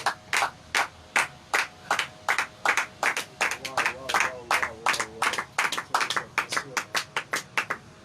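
A congregation clapping in rhythm to acclaim the Lord, steady close hand claps in a regular beat with a voice speaking over them.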